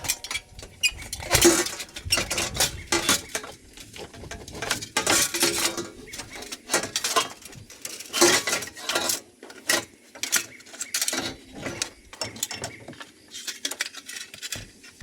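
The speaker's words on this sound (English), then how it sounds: "Now let's see if we can pull the pipe off." Metal clanks, scrapes and rattles from removing the exhaust mid pipe on a Can-Am X3 with a turbo, irregular close handling knocks with no talking.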